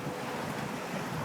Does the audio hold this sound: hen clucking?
no